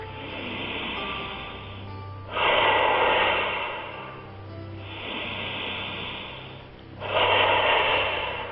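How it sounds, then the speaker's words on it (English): Yoga breathwork: four alternating breaths. Each is an inhale through the nose followed by a strong, loud exhale through the mouth. The exhales hiss forcefully and close up, in a slow, even rhythm, with no talking. "inhaling through the nose, exhaling strongly through the mouth like you're blowing out a flame"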